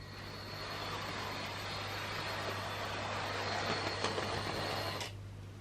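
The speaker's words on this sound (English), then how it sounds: "what we're going to do is we're going to get him backed up onto the train" A Bachmann Douglas model train locomotive from the Thomas & Friends range backs up onto its train, giving a steady close motor whir and rolling hum throughout, easing off near the end.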